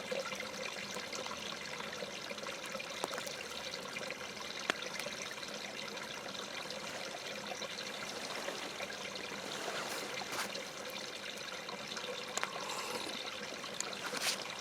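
Hot water poured outdoors on a snowy back step, a steady close trickle and stream of liquid running continuously at moderate level, with no talking.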